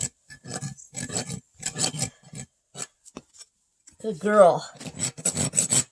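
Hoof rasp stroking back and forth to bevel a horse's hoof wall, a series of close, rough filing strokes in rhythmic bursts, with a voice briefly speaking to the mare in between.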